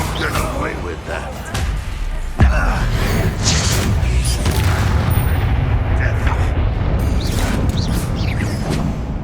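Confringo blasting spell explosions in the Hogwarts Legacy game boom amid a chaotic battle, with a sharp loud impact early on, then repeated thuds and whooshes under steady shouting voices.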